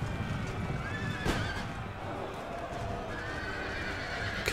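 Cavalry horses charging in Empire Total War, a dense rumbling clatter of many hooves with whinnies rising over it, steady and close throughout with no talking.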